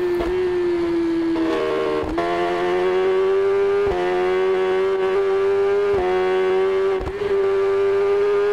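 A Yamaha YZF R6 sportbike ridden in sixth gear on Isle of Man roads, its engine holding a loud, steady high-pitched drone with strong harmonics, broken by a few brief dips and sharp clicks.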